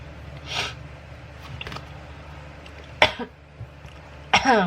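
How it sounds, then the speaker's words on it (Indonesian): Two sharp coughs, one near the middle and one toward the end, each with a short rough tail, over a low steady background hum. "Masih batuk"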